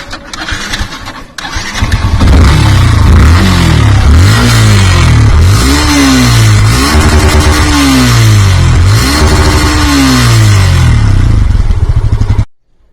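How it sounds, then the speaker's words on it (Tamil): A Yamaha FZS-FI V2 motorcycle starts up close by, and the exhaust is then revved repeatedly in loud rising and falling bursts over a steady idle before cutting off at the end. "இப்ப இந்த பைக்கோட எக்ஸாஸ்ட் நோட்டை பார்ப்போம்."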